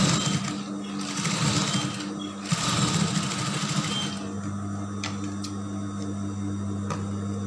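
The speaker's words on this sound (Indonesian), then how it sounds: "Ini kita tindas dengan ukuran 1 jarum." A sewing machine topstitches a seam on a lace dress, a loud continuous whirring drone that runs steadily, eases slightly partway, and carries a few faint clicks near the end.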